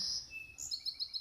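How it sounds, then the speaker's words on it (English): A high whistling call, presented as the Kazooidae bird, sounds close and fairly faint as one sustained tone followed by a quick run of short repeated chirps. "The Kazooidae bird has arrived because of your amazing bird calling."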